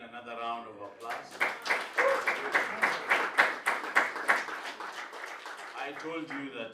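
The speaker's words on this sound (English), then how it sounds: "Kevin another round of applause." A room audience breaks into a round of applause, many hands clapping in a brisk, swelling rhythm for several seconds, with a voice speaking just before and as the clapping fades.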